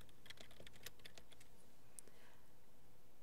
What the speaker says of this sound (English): you'll need to type in what you're looking for.